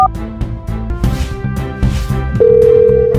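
Telephone call being placed, with a steady electronic tone holding near the end over a busy background of musical stepped tones, fairly loud and without talking.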